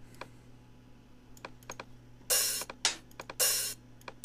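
Scattered soft clicks, then two bright, sizzling open hi-hat hits from a drum sample in NI Battery 3 that ring briefly, loud and close.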